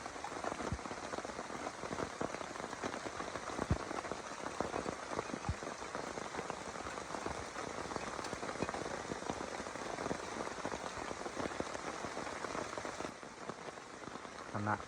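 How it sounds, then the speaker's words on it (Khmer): Steady rain patters continuously on leaves and surfaces in a forest camp, a dense even hiss with scattered sharper drops throughout, no one speaking. "ពេលនេះម៉ោង 1:05 នាទី មេឃកំពុងតែភ្លៀងហើយ"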